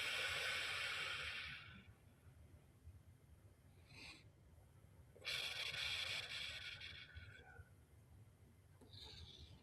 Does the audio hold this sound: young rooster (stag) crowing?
no